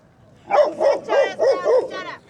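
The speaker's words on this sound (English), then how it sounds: "Oh, there's a puppy." A dog, likely a puppy wearing a muzzle, barks five times in a steady rhythm at night on a Phoenix street, loud and close, with no other sounds.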